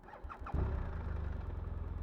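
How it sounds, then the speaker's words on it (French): A 2015 BMW R1200RT motorcycle in neutral, its 1200 engine starting after a brief starter whirr, catches abruptly and settles into a close, steady, pulsing idle. "Allez, je démarre, je suis en neutre."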